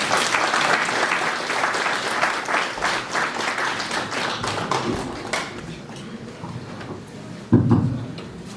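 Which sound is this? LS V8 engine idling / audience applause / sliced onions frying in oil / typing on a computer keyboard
audience applause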